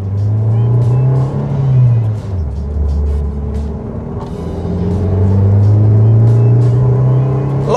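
A modified turbocharged Honda Brio with an L15A engine accelerates hard, its loud engine droning and rising through the revs with a brief dip as it shifts, heard from inside the car.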